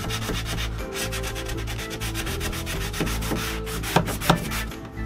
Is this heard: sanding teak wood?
yes